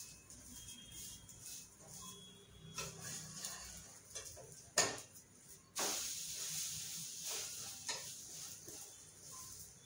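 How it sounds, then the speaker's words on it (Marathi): A bread omelette fries in a hot pan with a soft, steady sizzle and hiss, broken by a few sharper clinks and scrapes of a spatula against the pan. "आता एका साईडने शिजलेला आहे आणि दुसऱ्या साईडने आता शिजवते."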